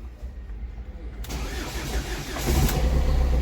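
A Ford Figo's starter cranks briefly in a workshop, then the engine catches and settles into a steady, close idle with no voices over it.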